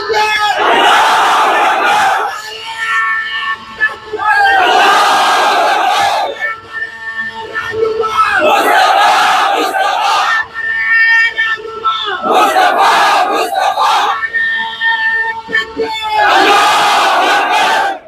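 A large crowd at a meeting of Muslim community leaders shouts the Takbir slogan in loud, massed bursts that repeat about every two and a half seconds, close and overwhelming.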